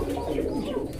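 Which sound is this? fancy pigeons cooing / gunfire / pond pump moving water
fancy pigeons cooing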